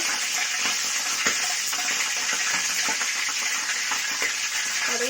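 Mustard seeds and urad dal frying in hot oil, a dense, continuous sizzle with small crackling pops, steady and close throughout.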